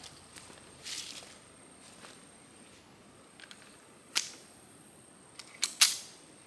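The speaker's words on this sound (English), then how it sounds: "now we're gonna shoot from the 5 yard line." A Smith & Wesson Bodyguard 2.0 pistol fires at a target from 5 yards, with a few sharp, isolated cracks spaced apart over faint background noise, and no speech.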